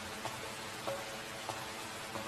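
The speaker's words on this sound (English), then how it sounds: "it's raining inside the lighthouse" Soft, steady rain falling inside a lighthouse in a horror video game, a faint continuous patter with a few slightly louder drips at intervals and no voices.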